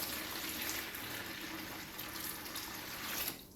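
Cold water poured into a container of pulp, a steady rushing splash that runs continuously at moderate level before tapering off abruptly near the end.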